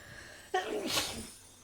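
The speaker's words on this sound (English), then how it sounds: "I need to sneeze." A single sharp sneeze bursts out close by, followed by a brief breathy exhale.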